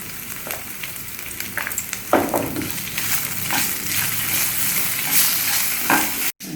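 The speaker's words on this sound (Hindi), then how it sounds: "देखिए हमारा मसाला भुन गया" Spices with green chilli, turmeric and salt fry in a pan for halwai-style bedmi puri potato curry, giving a steady close sizzle broken by several scraping stirs of the spoon.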